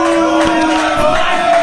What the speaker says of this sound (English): And the supporters going crazy out here, supporting the D-Man to gain the victory.